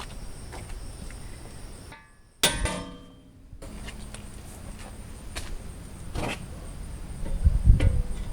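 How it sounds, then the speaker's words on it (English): A single sharp metallic hammer strike on a 2015 Jeep Grand Cherokee upper suspension control arm to separate it, with a ringing decay, followed by faint clanks and shuffling, over a background of chirping insects. "we're going to come back and strike this right here with a hammer to separate this"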